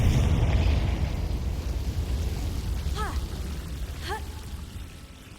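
Confringo blasting spell in the Hogwarts Legacy video game, a rumbling burst that booms at the start and rolls on as a long low decaying roar, with a few faint tonal chirps over it.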